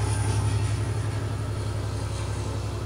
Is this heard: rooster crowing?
no